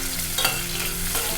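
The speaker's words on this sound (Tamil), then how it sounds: "ஒரு 10 சின்ன வெங்காயம் பொடியாக கட் பண்ணி வச்சுருக்கேன், அதை சேர்க்குறேன்." Finely chopped small shallot onions hit hot oil in a cooking pan, a loud, steady close-up sizzle with a brief stirring scrape partway through and no talking.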